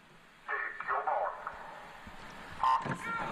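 An electronic start beep sounds at an indoor International Swimming League 100 m breaststroke race, one short tone heard among arena noise, with a commentator talking.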